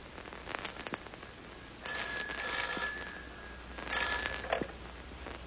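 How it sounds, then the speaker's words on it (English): Telephone ringing as a radio drama sound effect: two separate bursts of bright electric bell trilling, each about a second long, with a short pause between, fairly clear against a quiet background. "Almost at once, the telephone rang."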